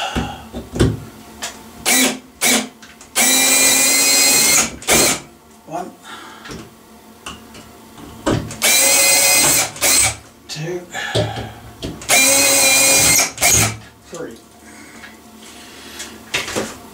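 Bursts of a power drill whirring in short spurts, several seconds each, drilling while fitting a bathroom light fixture, with pauses and small clicks and handling noises in between.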